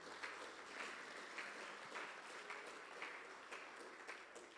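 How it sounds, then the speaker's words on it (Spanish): A church congregation gives a round of applause to the Lord, many hands clapping in uneven bursts, moderately distant and fairly quiet, continuing steadily throughout. "Dale un aplauso al Señor."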